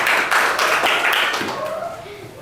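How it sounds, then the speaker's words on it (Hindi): Students in a classroom clap for a classmate in a quick burst of fairly loud, brisk applause that tapers off as a voice begins speaking. "ताली बजाना है।"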